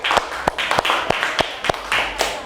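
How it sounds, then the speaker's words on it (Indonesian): A classroom claps for a student group, loud close sharp claps in a fairly regular rhythm, about eight distinct strikes with a light murmur of other hands between them. "Ya, tepuk tangan dulu untuk kelompok 4 ya."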